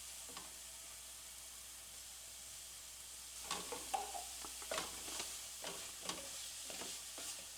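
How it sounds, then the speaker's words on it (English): Roasted, peeled and diced Anaheim chilies hit a skillet for a Southwest shakshuka: a faint steady hiss swells into closer sizzling crackles and stirring scrapes about halfway through, with no voices. "Two of those roasted Anaheim chilies, peeled and diced, go right into the pan."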